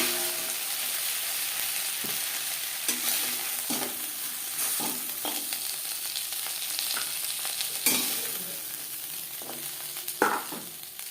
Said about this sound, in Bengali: মাছের মাথা ভেজে নেওয়া কড়াইতে তেল দিয়েছি, দিয়ে দিলাম 5 ফোড়ন।